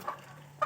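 A caught wild chicken lets out two faint, short clucks, one at the start and one near the end, separated by quiet.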